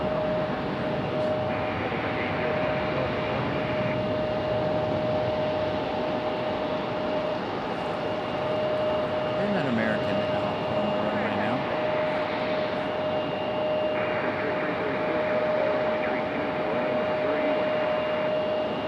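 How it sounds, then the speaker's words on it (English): An American Airlines Airbus A319 passes at Raleigh-Durham International, a steady broadband engine roar holding for the whole stretch with a constant whine riding on top. Faint voices come through now and then underneath. "A319 action here from American Airlines."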